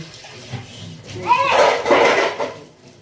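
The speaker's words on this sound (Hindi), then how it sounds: "देख ना बर्तन सबको रख दे" Household utensils are gathered and put away, clattering and clinking metal pots and dishes knocking together in a couple of busy bursts, with a voice talking over the clatter.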